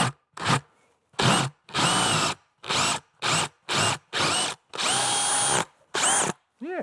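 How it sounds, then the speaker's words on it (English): A power drill whines in repeated bursts while drilling metal on a 1978 Corvette control arm, about ten short and long runs with brief pauses between, loud and close. "let's drill the one we didn't screw up first"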